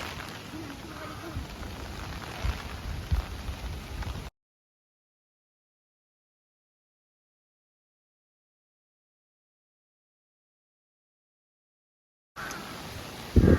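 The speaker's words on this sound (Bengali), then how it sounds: "আমাদের এখানে সকাল সকাল আজকে বৃষ্টি শুরু হয়ে গেছে" Early-morning rain brought by Cyclone Remal, a steady close patter and hiss with a few louder knocks, heard in two short stretches separated by a long silent gap.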